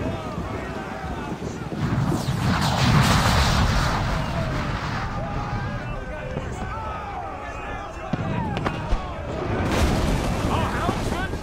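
Ship cannons firing in Assassin's Creed IV: Black Flag, heavy booming blasts and rumbling roar layered over shouting voices and battle din, loud and continuous throughout.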